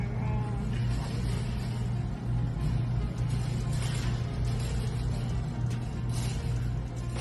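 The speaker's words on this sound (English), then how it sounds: "after leading police on a pursuit, except his vehicle of choice was a forklift" A forklift driven during a police pursuit, its engine droning steadily and loud throughout with a constant low hum, no talk over it.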